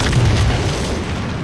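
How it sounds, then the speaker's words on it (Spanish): A grenade explodes inside a tank in a scene from The Walking Dead: one heavy, close boom with a rumbling tail that fades over about a second. "cuando Daryl destruye un tanque con una granada"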